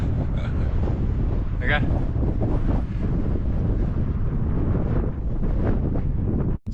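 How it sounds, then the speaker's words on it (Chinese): Strong wind tears across a Xinjiang desert in winter, roaring and buffeting the microphone loudly and constantly, with a short spoken phrase cutting in near the beginning. "哇，今天好大风啊！"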